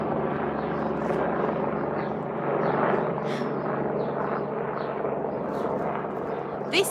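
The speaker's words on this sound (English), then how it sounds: "but that was a helicopter." A helicopter flying low overhead, its loud steady rotor thrum and engine roar filling the scene, with someone talking over it.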